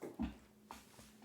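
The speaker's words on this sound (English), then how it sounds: "That's my dog." A pet dog whimpering for attention indoors, a short soft whine followed by a fainter second whimper, close by and without any talking.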